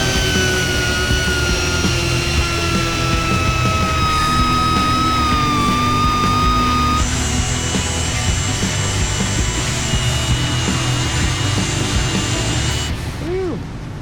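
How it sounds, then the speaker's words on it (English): A large grinder cuts through the front forks of a Harley Softail, making a loud, continuous high-pitched whine and rasping scrape that shifts pitch partway through and tapers off near the end. "Bigger grinder for this thing, just to eat through a lot of this."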